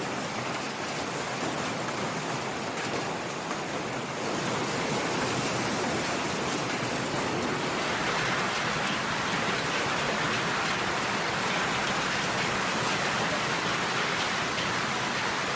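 Steady, heavy roar of hail and rain drumming on the hard surfaces of a train station in Brisbane's city centre, loud and continuous throughout with no voices.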